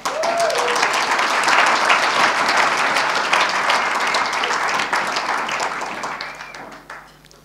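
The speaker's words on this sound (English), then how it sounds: "Give him an applause." An audience claps steadily for several seconds, a dense wash of applause that gradually thins and fades out toward the end.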